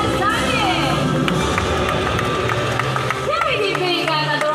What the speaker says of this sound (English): Can we give Big another round of applause